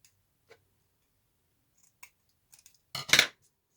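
Scissors cut paper for a handmade journal, with a few faint snips followed by one loud, close closing cut, and no talking.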